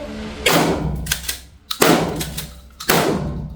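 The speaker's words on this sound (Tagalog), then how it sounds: "Ngayon, tetestingin natin kung paano natin tatamaan yung board na yan with our Atrox shotgun." Huglu Atrox 12-gauge shotgun firing at a board, three loud, close, sharp blasts with echoing tails, spaced about a second apart.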